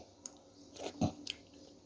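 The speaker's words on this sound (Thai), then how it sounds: "ชิมมะม่วงก่อน สุกกำลังดี" Ripe mango with sticky rice being eaten: a few soft, quiet bites and chews, with one fuller crunch near the middle, close and faint with no talking.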